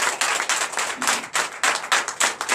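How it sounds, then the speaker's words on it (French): A church congregation at a Sunday service in Comè, Benin, claps in a steady, loud rhythmic beat, the claps coming in quick pulsing bursts and filling the room for a few seconds. "Donnez encore de vives acclamations à notre Seigneur Jésus"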